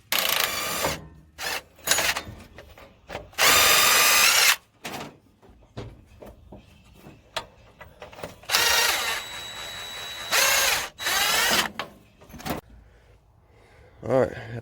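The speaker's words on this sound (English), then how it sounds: "Now to get the motor mount bolts out." Ratchet clicking in quick bursts while loosening motor mount bolts on a Chevy 350 engine in a C10 pickup, loud and close, broken by pauses and clanks of metal tools in a garage.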